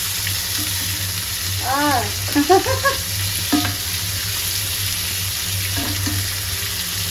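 Hot oil spluttering in a pan while a rui fish head fries, a steady sizzle throughout with a few sharper pops and clatter near the start, heard close up with no talk.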